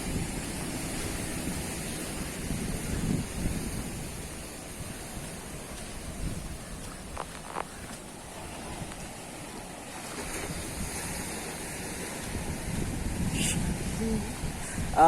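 Ocean waves washing onto Varkala beach on the Arabian Sea in Kerala, a steady broad surf wash with gentle swells, mixed with wind buffeting the microphone and faint distant sounds.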